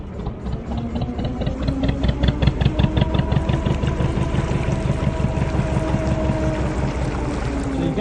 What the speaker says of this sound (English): now I'm just going to go into reverse to brake us gently